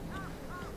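Crows cawing outdoors on a steep wooded hillside trail near a seaside campsite, two short harsh calls spaced apart over a steady background hiss, moderately distant.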